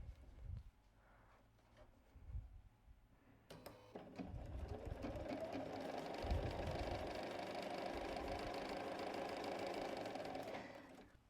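A sewing machine stitches quilt block pieces with a close, steady mechanical whirring run, started after a few soft handling bumps and stopping at the end.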